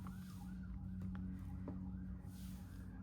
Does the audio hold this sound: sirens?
yes